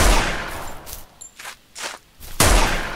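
A few loud gunshots in a PvP shootout in the video game Lifeless, each a sharp, booming crack with a short decaying tail, fired irregularly within a brief span.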